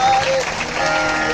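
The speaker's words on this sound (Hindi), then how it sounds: "ताली बजा लो" Devotees at a religious katha on the births of Ram and Krishna clap together: a short, steady burst of crowd applause with a voice sounding over it.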